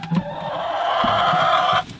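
A chicken in a backyard coop gives one drawn-out, nasal cluck lasting over a second, close and fairly clear, with a few soft scuffles around it.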